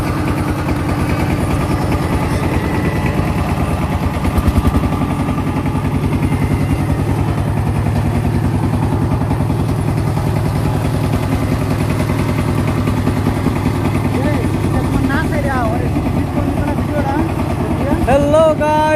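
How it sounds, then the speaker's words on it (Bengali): A river boat's motor drones loud and close on the Rasulpur river route in Brahmanbaria, a steady throbbing engine note throughout, with brief voices near the end. "আমরা এখন ব্রাহ্মণবাড়িয়া রসুলপুর নদী পথে নৌকা দিয়ে ঘুরতেছি"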